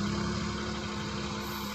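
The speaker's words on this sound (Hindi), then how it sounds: "वापस क्लच दबा के इंजन ऑन करो" A car engine idles steadily through a clutch driving lesson, with the rear tyre stuck in a pothole; a low, even rumble holds close and constant the whole time.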